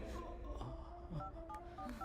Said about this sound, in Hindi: मैं अभी पुलिस को फोन करती हूँ।